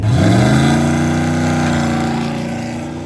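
A Mustang and a truck launch in a hard-tire drag race final, with a loud, sustained engine roar whose pitch rises as they accelerate and then slowly fades into the distance.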